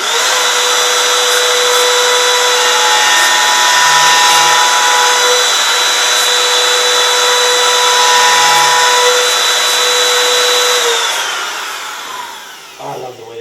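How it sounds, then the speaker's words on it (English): A Makita RT0701C compact router makes a test cut in walnut, its motor holding a loud, steady high whine for about eleven seconds before winding down as the bit spins to a stop. "So let's just make a test cut in this walnut here."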